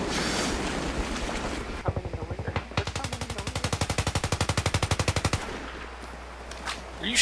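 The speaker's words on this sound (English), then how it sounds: "What are you shooting at people for?" Rapid machine-gun fire in the video game Battlefield 3, a loud, evenly spaced burst of shots lasting several seconds after a noisy stretch of battle ambience.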